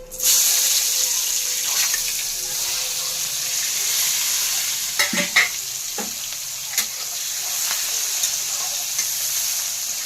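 Onions frying in a pan with chilli, cumin, cinnamon and cardamom, a loud steady sizzle running throughout, broken by a few close scraping stirs of a spatula midway.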